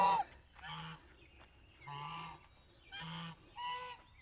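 A goose honks repeatedly right beside the goose house as it walks along, several loud, close calls in an uneven rhythm with short pauses between them.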